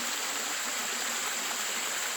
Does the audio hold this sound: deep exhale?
no